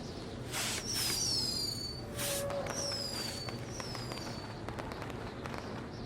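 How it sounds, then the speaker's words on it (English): Fireworks launch in the WWE 2K20 video game: several whistling rockets rise with falling tones, bursting with loud crackles, the bangs clustered early and fading toward the end over a steady hum. "we'll get to see some cool fireworks"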